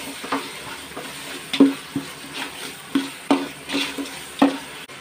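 Ginger garlic paste sautéing in a pan for chicken biryani: a steady low sizzle punctuated by about nine rhythmic spatula scrapes against the pan, close and distinct, with no voices.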